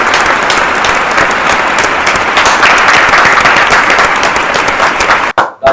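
Audience applause fills a comedy and medical entertainment stage show: a loud, dense burst of clapping from a crowd that continues steadily for several seconds, then cuts off abruptly into silence.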